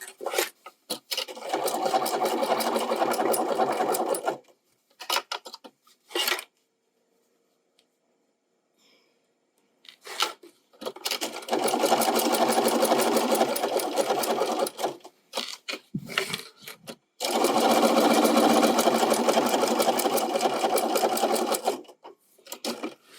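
A sewing machine stitches a Valentine's Day pillow, running in three long, steady bursts separated by brief stops and a quiet pause.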